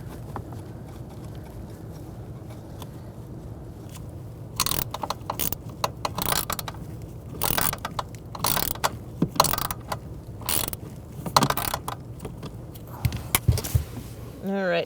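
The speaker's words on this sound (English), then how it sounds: "we're going to try to snug up this one bolt." Ratchet wrench snugging a bolt on the HVAC blower motor assembly of a 2000-2007 Ford Taurus, heard as a run of close, sharp metallic clicks in uneven bursts over a low steady hum.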